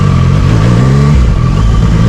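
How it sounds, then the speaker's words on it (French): A supermoto or sport motorcycle engine revs loudly and close while riding on a Swiss road trip, a steady droning roar that shifts pitch partway through as the throttle changes, with no talk over it. "y est mec, on est en moto."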